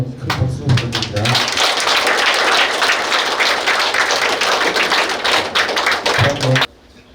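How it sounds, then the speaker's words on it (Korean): A lecture audience at a medical centre's special lecture bursts into loud, sustained applause lasting several seconds. It then cuts off abruptly, with speech before and after. "다시 한번 큰 박수 부탁드립니다"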